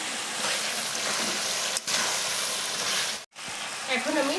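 Dense crackling sizzle of chopped chicken skin frying in its own rendered fat in a pan, loud and steady with two brief sudden dropouts near the end.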